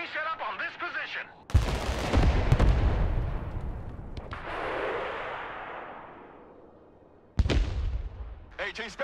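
Heavy mortar and artillery fire in the war game Broken Arrow: loud booming blasts with long rumbling decays, a big barrage in the middle and another sharp blast near the end, with radio-style voices speaking between.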